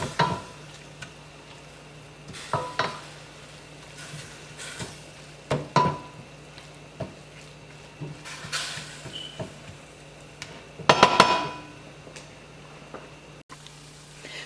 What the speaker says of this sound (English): So you will let the ground beef cook.